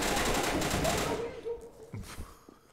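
Rapid gunfire in a Garry's Mod DarkRP game, a dense burst of loud shots that cuts off after about a second and a half, followed by a few scattered quieter shots.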